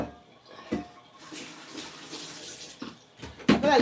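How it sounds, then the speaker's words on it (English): Tap water runs and splashes in a home kitchen while leafy greens are rinsed with salt and water for a Sierra Leone dish. The close, uneven gushing comes in surges with louder splashy bursts near the end. "I'm going to rinse the green leaf with some salt and water"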